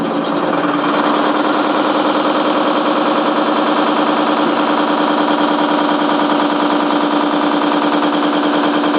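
An electric motor, powered from a battery, spins an alternator in a steady, loud, continuous hum with an even mechanical whir and no pauses.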